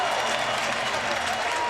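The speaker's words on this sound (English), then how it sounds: "The crowd is absolutely pumped." A dense, loud crowd roars and applauds at a 1999 Clemson versus Virginia college football game, a continuous wash of stadium noise with voices blended in.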